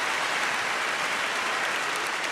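An audience at a live doll-collecting show breaks into a steady round of applause, dense continuous clapping throughout, fairly loud with no voices over it.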